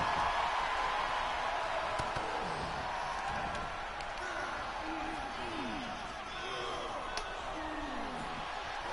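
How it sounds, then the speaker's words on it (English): Wrestling crowd at a live indoor wrestling show, a steady distant roar of cheering and whoops rising and falling, with a commentator talking over it throughout. "So now Mr. Blue now has the crowd ramped up."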